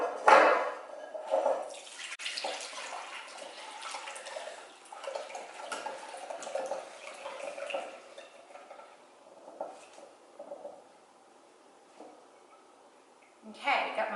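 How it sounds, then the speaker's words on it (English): Buttermilk is strained off freshly churned butter into a measuring cup: splashy pouring and dribbling with clinks of utensils and dishes, rising and fading in bursts, while a person talks. "strain off the buttermilk from the butter"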